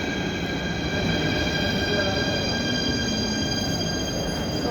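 A train passes through a station with a steady, loud rumble and a sustained high metallic squeal from the wheels lasting throughout.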